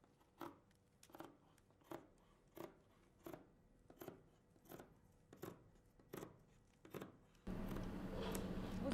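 Scissors snip through fabric while cutting a chest dart for a frock coat, about a dozen crisp, evenly spaced cuts, close and fairly quiet, ending in a louder burst of rustling noise.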